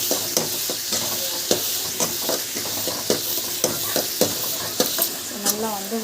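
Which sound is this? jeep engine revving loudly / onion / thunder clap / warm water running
onion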